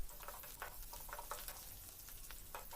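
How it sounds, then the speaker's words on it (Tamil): Onions with curry leaves sauté in a pan for avarakkai poriyal, a soft, steady sizzle with small crackles, quiet and close, without any talk. "வெங்காயம் நல்லா வதங்கட்டும்."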